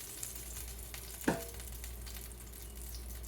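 Food frying steadily in a pan on a home kitchen stove, a soft continuous sizzle with one brief sharper clatter partway through, close and moderately quiet.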